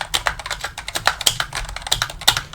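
Rapid, close typing on a membrane keyboard, a steady run of soft, muffled keystrokes with no voices.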